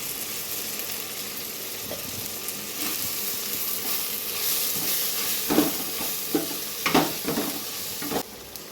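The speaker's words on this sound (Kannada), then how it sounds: "ಬದನೆಕಾಯಿ ಆಲೂಗಡ್ಡೆ ಕುಯ್ದು ಇಟ್ಕೊಂಡಿರೋದನ್ನು ನಾನು ಅದು ಒಗ್ಗರಣೆ ಒಳಗಡೆನೇ ಹಾಕಿದ್ದೀನಿ" Eggplant and potato sizzle in hot tempering oil, with steady frying hiss broken by several sharp stirring scrapes near the end.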